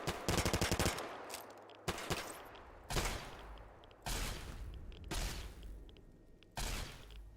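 Metal Blaster energy weapon in Fallout firing repeatedly, with a rapid crackling burst followed by several loud, separate blasts spaced about a second apart, each with a short decaying tail.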